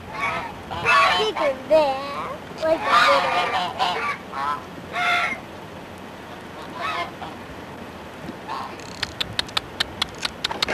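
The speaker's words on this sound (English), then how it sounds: "Look at these big geese." Large geese honk loudly in several bursts close by, with a voice and other talk mixed in and brief tapping clicks toward the end.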